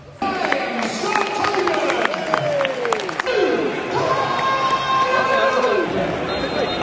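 Football crowd at a Birmingham City home match against Cardiff City clapping as players come out, a broad roar of applause and chatter from a packed stadium, with whistles and voices over the top.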